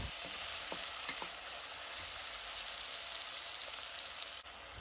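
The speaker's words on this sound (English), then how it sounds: "allow this to fry for about 2 to 3 minutes on medium to low heat" Steady, close sizzling of tuna omelette egg mixture frying in a hot pan over medium to low heat, a continuous crackling hiss with a few sharper pops and spatters, no voices.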